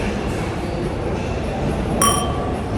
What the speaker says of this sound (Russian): поэтому у нас есть время поднять бокал